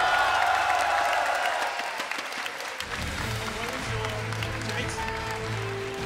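Crowd applause at the grand final of a CS:GO tournament at Paris Games Week, a dense, sustained roar of clapping from a large audience that softens slightly partway through, with an announcer's voice over it.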